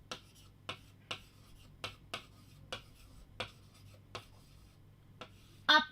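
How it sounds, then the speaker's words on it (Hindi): A teacher writes a word on a board, with about a dozen short, sharp taps and strokes at uneven intervals, quiet and close, ending in a brief scratchy squeak, with no talking. "मैं एक शब्द लिखती हूँ"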